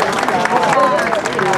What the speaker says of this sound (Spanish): Suelten las palmas para nuestra alcaldesa Anita Kobayashi